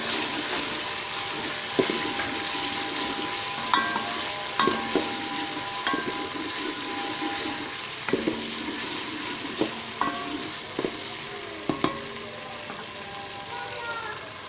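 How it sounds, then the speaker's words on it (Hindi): Green chilies roasting in a pan with lentil masala, a continuous busy sizzle with repeated scraping and clinking of a spatula stirring against the pan. "अभी इसमें मैं हरी मिर्च भी जो है वो भी शामिल कर देता हूँ और इसको भी साथ ही मैं इसकी भुनाई कर लेता हूँ"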